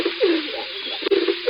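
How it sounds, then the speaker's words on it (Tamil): Pigeon cooing: a series of soft, low, throaty coos repeated in short phrases, close and clear, with brief pauses between calls and nothing else audible. "புறா குணுகும்."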